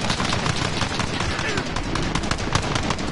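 Rapid automatic gunfire from an online shooter video game, dense, continuous bursts with scattered single shots layered over game noise for the whole stretch, with a voice talking underneath.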